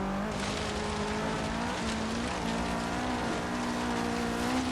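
A race car engine in the video game Forza Horizon 3 drones steadily at high revs, its pitch wavering slightly as it holds speed, loud and continuous with no voices.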